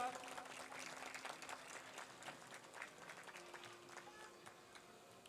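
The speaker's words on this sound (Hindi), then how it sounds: "एक बार तालियां जोरदार।" Audience at a gathering held at a cow shelter claps, a faint, distant-sounding patter of many hands with uneven bursts, a low steady hum and tonal notes running underneath.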